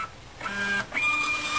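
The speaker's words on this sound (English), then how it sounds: "and it prints void" A KPM300H railway ticket printer whirs and feeds as it prints a voided ticket, a close mechanical run with brief motor pulses and clicks, then a steadier hum, with no voices.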